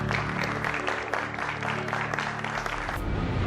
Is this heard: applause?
yes